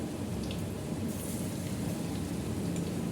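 Rain falls steadily as a continuous, even hiss of drops on surfaces throughout, with no voices.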